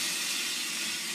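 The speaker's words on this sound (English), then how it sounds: "you notice when I turn it back off, the steam keeps coming out" A Breville Bambino espresso machine's steam wand lets out a continuous, loud, close hiss that holds steady without a break.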